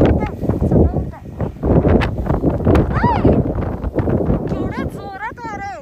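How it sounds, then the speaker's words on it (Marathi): Strong wind gusts roar and buffet the microphone during a snowstorm beside a car being cleared of snow, loud and continuous throughout, with a person talking over it. "केवढ्या जोरात वारा आहे हे ना."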